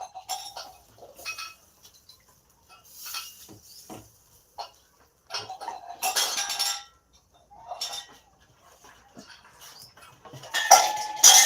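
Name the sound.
utensils being taken out and clattering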